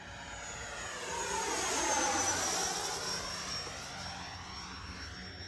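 An FMS Integral 80mm RC jet flies past with a steady, smooth turbine whine that swells to a peak as it nears and then fades slightly as it pulls away, with no talk over it.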